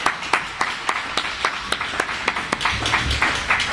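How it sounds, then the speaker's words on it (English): A small audience at a men's speech class applauds its speakers, with sparse, distinct hand claps in an uneven rhythm that grow slightly denser toward the end. "Let's give another round of applause for all the 5 awesome speakers."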